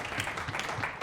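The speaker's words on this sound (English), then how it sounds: "give back here a round of applause" Audience round of applause at a fitness talk, a dense, steady patter of many hands clapping close by.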